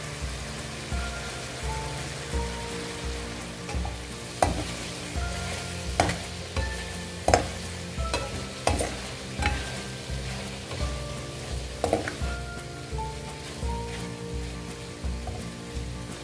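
Bell pepper and onion fry in a pan for chicken fajitas, giving a continuous crackling sizzle with periodic sharper pops and stirring clatters, close and moderately loud, with no talk.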